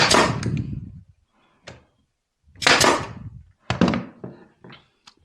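A nail gun fires nails into a wooden board for a Christmas woodworking project, giving several sharp, loud bangs with short decaying thuds. A couple of softer knocks sit between the shots.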